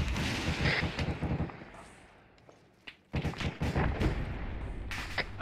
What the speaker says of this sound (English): It's the MG on top of the vehicle.